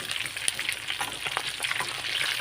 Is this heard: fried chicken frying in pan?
yes